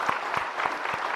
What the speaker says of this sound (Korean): 그러니까 큰 마음으로 박수하겠습니다.